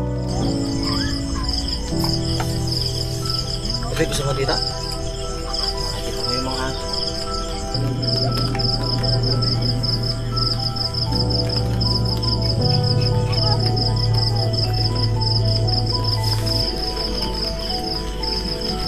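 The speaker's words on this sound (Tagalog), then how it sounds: "Tapos yung tunog pa ng kuliglig." Crickets chirp in a steady high-pitched trill throughout at a lakeside campsite, with faint birds and rustling nearby; a person speaks briefly partway through.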